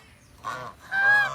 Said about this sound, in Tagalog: Ano sabi ng duck?